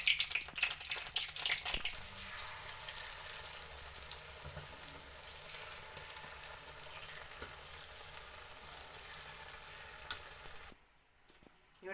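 Potato chips frying in hot oil, a steady dense sizzle with some stirring scrapes early on, continuing evenly before cutting off near the end.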